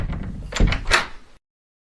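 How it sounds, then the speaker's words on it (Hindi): A house door swings open with a short wooden creak and clunk, close and fairly loud, ending abruptly into silence. "ये दरवाजा कैसे खुल गया?"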